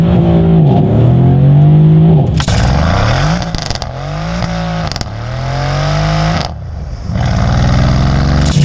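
A Mercedes-Benz AMG car's engine revs hard while drifting, loud and close, its pitch rising and falling through several surges with brief dips between throttle blips.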